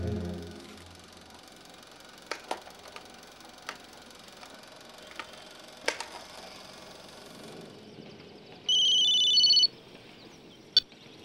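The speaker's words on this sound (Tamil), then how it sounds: "ஃபோன் எடு." A telephone rings once near the end, a short electronic trill standing out over a quiet room with scattered ticks and knocks, and nobody speaks during the ring.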